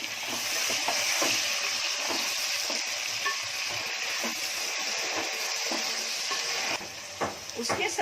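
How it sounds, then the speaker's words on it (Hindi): Prawns frying for a Konkani-style pulao, a loud, dense sizzle that stays steady throughout with scattered stirring scrapes, close to the pan and with no talking. "अब इसमें झींगे डाल रही हूँ। झींगे जितना अपन आग पे थोड़ा भून लेते हैं"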